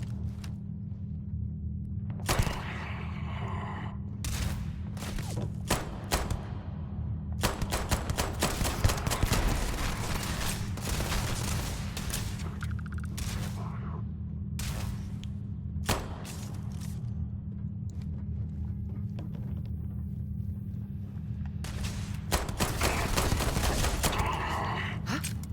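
Gunfire in the space game Starfield: sharp bursts and single shots come at irregular intervals over a constant low hum, with some rapid clusters and loud cracks close by.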